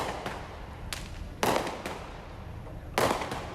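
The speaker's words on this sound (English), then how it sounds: "Fireworks ensued" Fireworks burst outdoors at night in Los Angeles, with several sharp cracking bangs at irregular intervals. Two heavier booms stand out over a constant background hiss.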